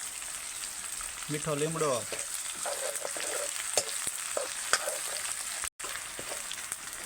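Peanut bhaji curry, a village-style Kathiyawadi dish, fries in oil with a steady, close sizzle and crackle throughout, while a voice speaks briefly near the start.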